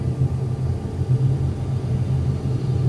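A Toliss A320neo jet engine spools up during start in X-Plane 12, giving a steady, continuous low rumble with a droning hum that holds evenly for the whole stretch.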